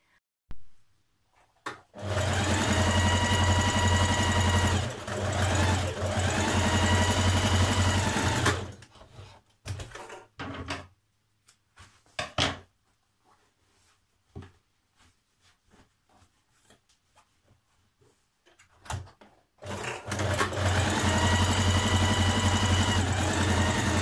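Sewing machine running a line of stitching on fabric, in three long, loud bursts of fast mechanical whirring separated by quiet gaps with small clicks and handling noises.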